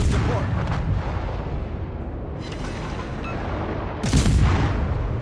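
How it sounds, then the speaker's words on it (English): Italian torpedoes striking a ship in a naval battle video game, a heavy rumbling din capped by loud booming impacts, the strongest hit near the end. "Italian torpedoes, man. So brutal."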